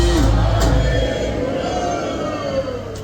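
A Sikh congregation's loud answering jaikara shout at Gurdwara Shaheed Ganj Sahib during the early morning ardas, a big massed cry that swells at once and then slowly fades away.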